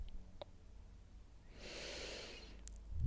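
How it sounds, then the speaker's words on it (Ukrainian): A single slow, breathy inhale and exhale during a morning stretching workout, heard close and quiet with no talking. "Вдих, видих."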